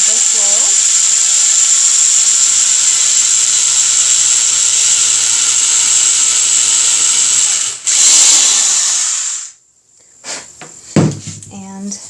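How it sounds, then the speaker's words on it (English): Power drill whirring steadily as it bores through a rustic star ornament for a Pottery Barn–style craft, a loud sustained high whine that cuts out near the end, followed by brief handling knocks. "So I'm just going to drill through here."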